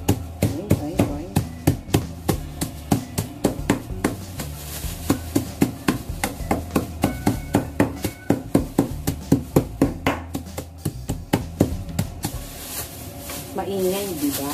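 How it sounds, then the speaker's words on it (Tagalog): Steady rhythmic pounding of peanuts into a fine grind, sharp repeated thuds in a quick regular beat, close by, with a voice talking over it and a brief pause near the end. "Ganyan talaga kaingay pag nagpupukpok ka."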